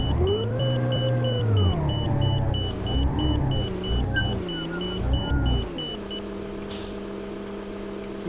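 A Gillig Phantom bus engine in the Omsi 2 driving game, a deep steady diesel rumble that rises and falls in pitch several times before settling into a low idle, with faint repeating beeps overhead.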